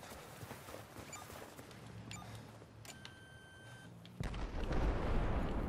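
Explosion in Battlefield 4 multiplayer combat: scattered shots and clicks give way to a sudden loud blast that settles into a sustained, heavy roar.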